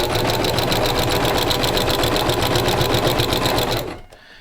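A sewing machine stitching an accent pillow runs loud and close in a fast, steady mechanical whir and patter for about four seconds, then stops abruptly.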